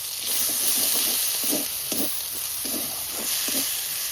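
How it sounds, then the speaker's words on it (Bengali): Ground spices with a little sugar and added water fry in a pan for a potato curry, giving a steady loud sizzle and hiss with soft scraping stirs pulsing through it. "আর একটু জল দিয়ে মশলাটা ভালো করে কষাবো।"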